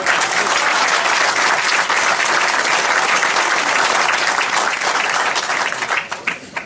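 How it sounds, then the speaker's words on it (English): An indoor audience at a Naval Academy Prep School Class of 1967 reunion program claps loudly and continuously, dense applause that holds steady before tapering into a few scattered claps at the end. "thanks for that round of applause for everybody"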